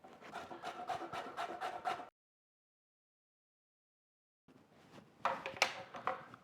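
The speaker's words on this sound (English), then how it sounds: "we're going to coarsely grate some fresh carrot" Fresh carrot is coarsely grated by hand, giving rapid, rhythmic rasping strokes close up, then a pause of silence before a second burst of grating.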